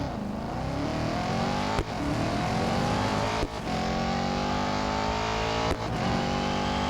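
Aston Martin Vantage GTE race car engine from Real Racing 3 roaring loudly and continuously, pitch climbing steadily through the gears with three brief dips at shifts, no voices.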